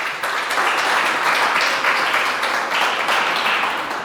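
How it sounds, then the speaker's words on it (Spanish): Church congregation applauding during a Spanish-language service: a steady, dense wash of many hands clapping, held at an even level for the full length with no voices standing out. "Dale otro aplauso por eso."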